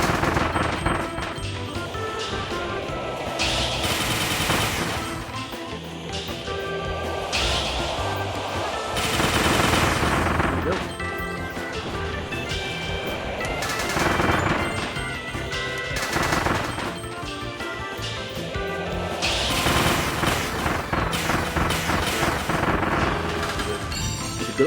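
Video game gunfire at a shooting gallery in a post-apocalyptic game: dense bursts of rapid shots and booming impacts recur throughout, loud and continuous, with game music or effects underneath.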